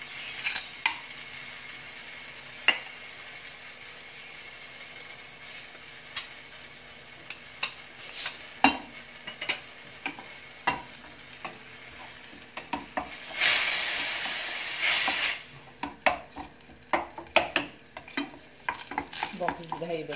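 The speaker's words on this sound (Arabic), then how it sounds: "دونك نتسنى على الزبدة حتى تذوب لينا." Butter melting and sizzling in a pan with onion, a steady soft frying hiss under repeated ticking stirs of a utensil, with one louder sizzling surge partway through and no voices.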